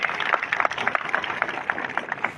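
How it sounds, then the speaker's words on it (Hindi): Seminar audience claps for Sukhvinder at a live business event, a steady wash of fairly faint applause with many overlapping hand claps throughout. "जोरदार तालियां सुखविंदर जी के लिए।"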